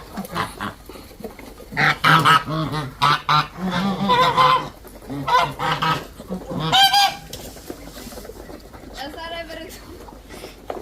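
Old, fully grown geese honk repeatedly and loudly, close by, in irregular bursts of harsh nasal calls.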